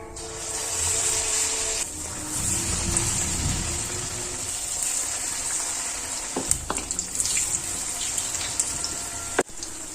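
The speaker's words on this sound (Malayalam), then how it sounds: "അപ്പോൾ എണ്ണ നന്നായി ചൂടായി വന്നിട്ടുണ്ട് നമുക്കിത് ഓരോന്നായി മാവിൽ മുക്കി ഇതിലോട്ട് ഇട്ട് കൊടുക്കാം" Banana fritters (pazham pori) dipped in batter sizzle in hot oil, a steady bright hiss with occasional pops and clinks near the end, no talking.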